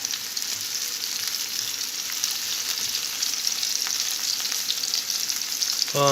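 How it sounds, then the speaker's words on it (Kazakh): Chopped onion fries in a pan, a loud, continuous crackling sizzle close by with no talking, ending in a short clatter. "Примерно где-то 2 минуттай немесе 1 минуттай қуырамыз жуаны"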